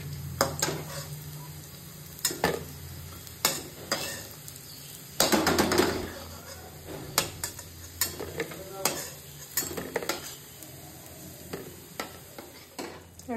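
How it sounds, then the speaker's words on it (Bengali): Battered eggplant slices (beguni) frying in a pan of oil, a soft sizzle under repeated scrapes and clinks of a utensil against the metal pan, with no speech. "এখন আমি বেগুনি ভাজবো"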